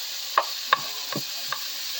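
Shrimp and chicken browning in a pan for a Chinese dish give a steady sizzle and hiss, broken by four sharp utensil scrapes and clanks at roughly even intervals, close and fairly loud.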